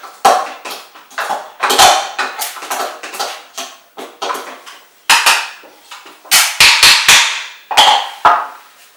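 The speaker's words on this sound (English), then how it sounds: "And the stick of cinnamon is usually the most difficult. I'm trying to break it up without it shattering and going all over the place." A cinnamon stick is struck repeatedly to break it up for chai, producing sharp, loud cracking and knocking impacts in irregular bursts, close up and with no talking.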